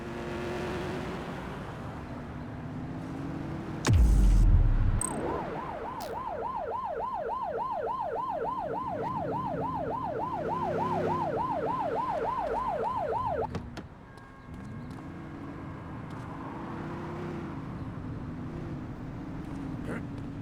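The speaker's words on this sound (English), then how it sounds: "Turn that siren off." A police car siren wails in the video game The Precinct, a rapid cycling yelp lasting about nine seconds over engine rumble, beginning after a loud thump and cutting off abruptly as the car keeps driving.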